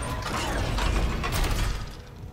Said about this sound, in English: I'm gonna do a little more ammo on this plasma printer.